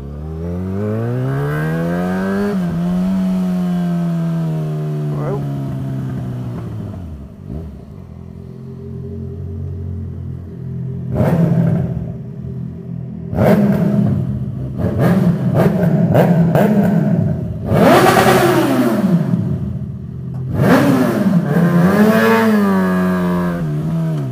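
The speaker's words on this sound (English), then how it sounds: "I thought I would just go for a ride into the nice back roads, but now I'm out on the bike" A motorcycle engine on a back-road ride revs and accelerates repeatedly, pitch climbing through the gears then dropping on shifts, loud and close with steady rumble and wind throughout.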